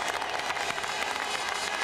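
Crowd at the 2001 Italian Grand Prix at Monza applauding and cheering, a dense wash of clapping that stays steady and loud throughout the short stretch.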